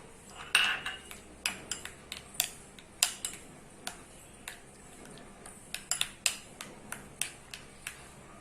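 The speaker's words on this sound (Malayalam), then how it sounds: "നന്നായി മിക്സ് ആവുന്നത് വരെ ഇളക്കുക." Spoon clinking against a bowl while a glass cake mixture is stirred until smooth, sharp irregular taps near and fairly quiet with no voices.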